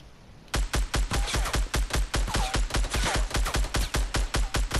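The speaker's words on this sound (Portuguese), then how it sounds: "Luca, eu descarreguei um pente no cara, acertei um tiro, velho." Rapid automatic gunfire in Fortnite: Battle Royale, a loud burst of evenly spaced shots firing in steady rhythm after a brief quiet start.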